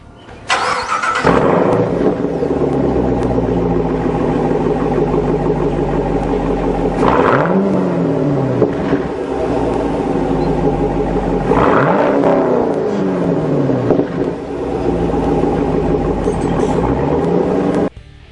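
A 2011 Chevy Camaro convertible's exhaust revs up and eases off repeatedly, a steady exhaust drone with rising and falling sweeps as the car accelerates and decelerates.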